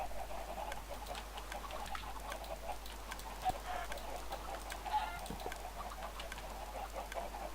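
Soft clucking Minecraft chickens scattered over a constant low electronic hum, faint and fairly even throughout.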